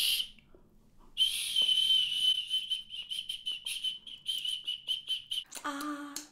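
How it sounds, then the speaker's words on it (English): A shrill whistle is blown repeatedly in short, sharp bursts after a quiet start, ending with a brief lower squeak. "Whistle blow it."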